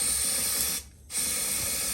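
A powder coating gun sprays powder onto a brake caliper bracket, a steady close airy hiss that briefly cuts out for a moment before resuming, with no talk.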